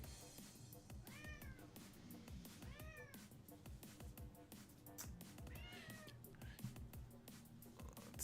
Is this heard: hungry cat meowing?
yes